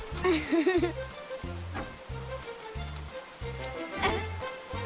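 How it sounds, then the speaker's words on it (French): Soft, continuous patter of rain falling outside in a children's cartoon, heard under a rhythmic musical backing, with a brief voice near the start. "Et il pleut dehors."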